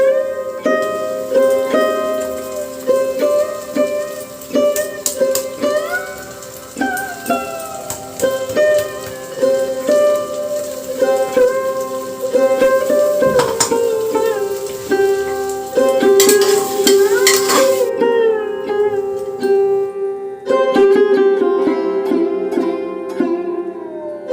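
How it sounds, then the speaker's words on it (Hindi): Ginger garlic paste frying in a little oil in a home kitchen pan, with a steady sizzle and occasional stirring clinks of a spoon against the pot, set against background music. "तो अब इसमें ऐड करूँगी जिंजर गार्लिक पेस्ट"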